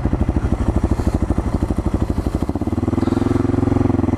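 A supermoto motorcycle engine revs hard while riding, its loud, rapid pulsing exhaust close and steady, then settling into a smoother, deeper drone near the end.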